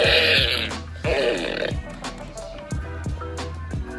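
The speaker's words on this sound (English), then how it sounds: "it's the fart gun" A toy fart gun fires a string of loud, wet, burping blasts, each a short rasping burst, repeating about six times in quick succession with brief gaps and some fading echo between shots.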